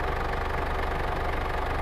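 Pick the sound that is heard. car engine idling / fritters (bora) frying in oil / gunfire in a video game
car engine idling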